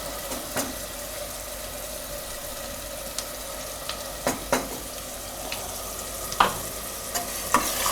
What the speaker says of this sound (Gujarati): થોડીક વાર એની તેલમાં ફેરવી લેવાનું